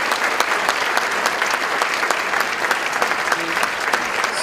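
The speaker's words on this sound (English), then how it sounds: "we're just going to give them a big round of applause as they leave the stage" An audience gives a choir a big round of applause as the singers leave the stage, a dense, steady wash of many hands clapping close and loud with no talk over it.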